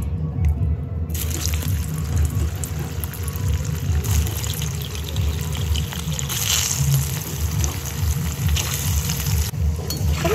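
Hot water pours steadily in a home kitchen to soak an ingredient during cooking, a continuous close rushing splash with no voices.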